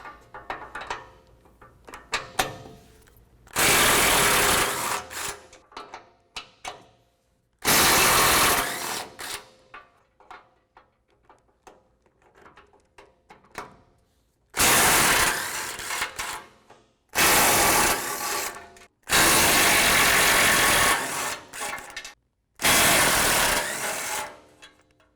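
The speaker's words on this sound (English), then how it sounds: "we're going to reach in with a 17 millimeter deep well socket along with an extension and remove the nuts that hold it" Loud, close bursts from a power tool driving a 17 mm deep well socket on an extension spin off crash bar nuts from a front bumper's studs, with six or so separate runs divided by quiet pauses and small clinks.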